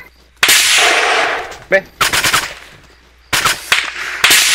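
Bursts of rapid automatic gunfire in the video game Arma 3, loud and close, coming in several rattling volleys separated by short pauses, with a brief voice between them.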